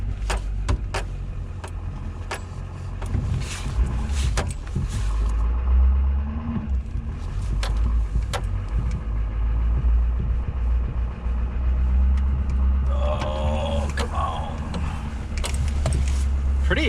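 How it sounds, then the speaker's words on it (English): A 2004 LB7 Duramax 3500 dually diesel truck drives slowly and maneuvers to turn around, its low engine rumble steady and near, with intermittent clunks, rattles and a brief rev toward the end. "Let's see if we can get her turned around without getting stuck."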